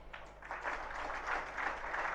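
An audience at a Jain religious discourse by Tarun Sagar Ji Maharaj claps in sustained, moderately distant applause that runs evenly for a couple of seconds.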